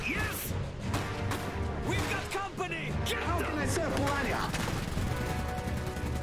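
Cannon blasts and rapid gunfire from a real-time strategy battle in Iron Harvest pile into dense, continuous volleys of shots and crashes for about six seconds, with no pause in the din.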